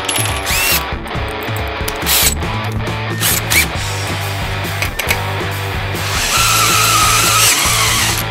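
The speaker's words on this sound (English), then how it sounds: "So now I need to make a couple of holes." A unibit step drill bit bores holes in metal bars for an electric vehicle build, the power drill whirring and grinding loudly in close, repeated bursts with short pauses between them.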